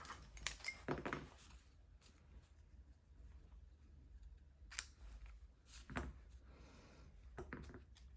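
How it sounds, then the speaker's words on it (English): Scissors snipping the ends of ribbon for a bow, several quiet, crisp cuts spaced apart with small handling rustles in between. "Trim these ends."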